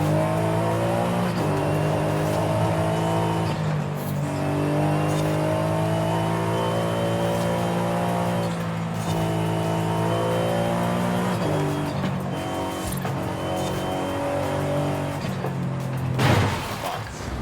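Several race cars in a weekend race, engines droning with harmonic whine that rises and falls through gear changes, a sustained loud roar with a sharp tire-squeal-like burst near the end, no talking.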